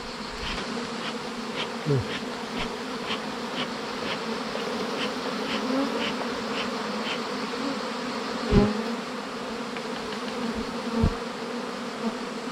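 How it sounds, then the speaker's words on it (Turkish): A dispersed honeybee swarm being gathered from a tree into one spot before shaking it into a hive, with a dense, steady buzz of many bees close by and occasional louder passes. "şu anda parça parça dağılmış olan arıları belli bir noktaya topluyoruz"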